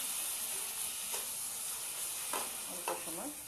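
Spice paste sizzling in a pan with fried onions for a jackfruit curry, a steady close frying hiss with occasional stirring scrapes and bursts of crackle, no talking.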